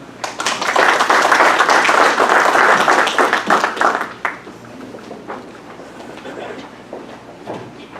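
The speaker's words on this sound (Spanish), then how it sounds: "Lo recibimos con un fuerte aplauso." An audience at a national road-safety conference inauguration applauds to welcome a speaker; the clapping is loud for about four seconds, then drops away to scattered claps and room noise.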